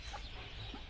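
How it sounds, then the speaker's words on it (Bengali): Young chicks on a small village farm at dusk, clucking softly, a brief faint burst of peeping close by with no voices over it. "মুরগির বাচ্চাগুলো"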